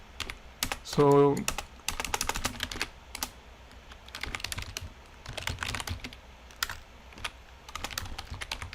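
Computer keyboard typing at a desk, a fast run of close, crisp key clicks in irregular bursts, with a brief spoken word near the start.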